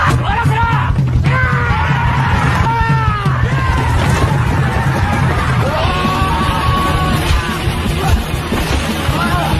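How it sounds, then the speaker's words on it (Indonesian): Several young men yell and bellow at full force as a gang brawl kicks off, overlapping rough shouts forming a loud, chaotic din that stays dense throughout. "memulai tawuran tersebut dengan cara berteriak sekencang mungkin"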